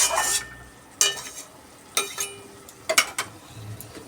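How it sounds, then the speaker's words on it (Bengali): Red amaranth greens fry in a pan with onion, garlic and dried red chilli, a soft sizzle punctuated by a few sharp clacks and scrapes of a stirring utensil. "লাল শাক ভাজা চলছে এখনো"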